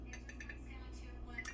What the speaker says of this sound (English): I'm gonna stir that in first